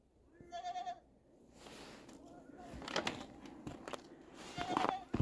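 Goats bleat in short, fairly quiet calls on an Alaska farm in winter, mixed with crinkling and thumping handling noises nearby.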